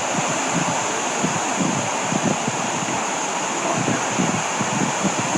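Wind blows across a cemetery in a steady, loud, broadband rush that never lets up, buffeting the microphone throughout with no talking.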